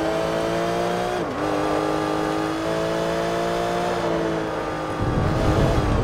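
A Porsche Cup race car in Forza Motorsport 3 holds a loud, steady engine drone with a brief dip as it shifts, then a rougher, louder surge of engine noise near the end, with no talking.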